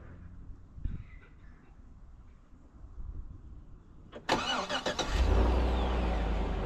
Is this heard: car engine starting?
yes